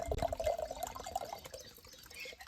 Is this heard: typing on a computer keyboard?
no